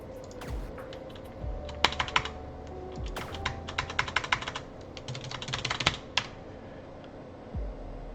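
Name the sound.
typing code on computer keyboard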